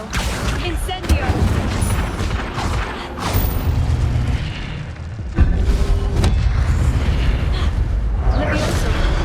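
Spell blasts in the Hogwarts Legacy video game burst repeatedly in a busy, rumbling mix of booms and crackling impacts, while a voice calls out spell names throughout.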